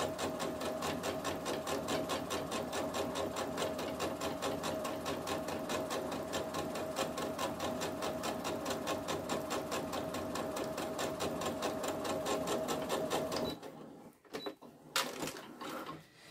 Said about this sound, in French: je fais ma troisième surpiqûre sur la troisième poche